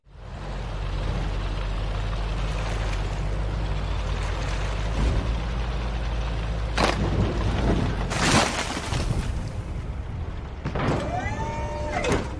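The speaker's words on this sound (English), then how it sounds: "And now let's take a look at M113 Armored Cavalry Assault Vehicle in action." M113 armored cavalry assault vehicle in the Armored Warfare game: a steady low engine drone runs throughout, broken by several loud sharp bursts like gunfire or impacts near the middle and a whining mechanical sweep toward the end.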